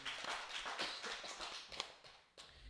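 A church congregation claps together during a Sunday worship service at a Full Gospel church, producing a dense, fairly soft patter of many hands in uneven bursts that fade and then pick up again near the end.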